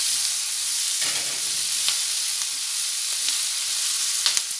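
Capsicum pieces for a capsicum gojju frying gently over a low flame in a little oil, a steady, close crackling sizzle with occasional sharper pops and light stirring scrapes, no voices.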